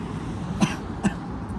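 Two short coughs, about half a second apart, over a low background murmur.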